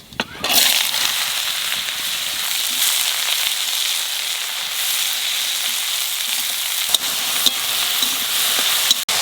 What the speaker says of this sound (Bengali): তেলের উপর দিয়ে দেবো কটা সর্ষে লাউ আর কাঁচা লঙ্কা দিয়ে দেবো